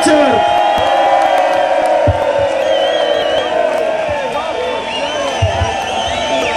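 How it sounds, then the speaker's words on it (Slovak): A concert audience cheers and whoops loudly in a dense, continuous roar, with shouted calls and scattered claps rising out of the crowd noise while a voice speaks over it. "Tak potlesk ešte raz pre jeho"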